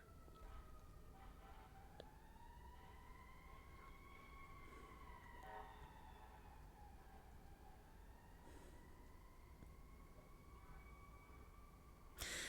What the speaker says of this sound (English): I'm going to let the siren sink in.